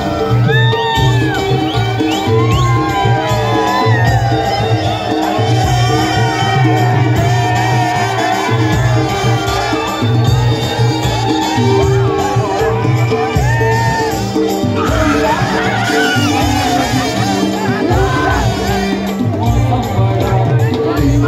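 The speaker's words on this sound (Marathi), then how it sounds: "टाळ्याचा जल्लोष" A large crowd cheers and shouts continuously at a Govinda human-pyramid performance by Jai Jawan Govinda Pathak during the 2025 festival, loud and sustained, with voices and music mixed into the din.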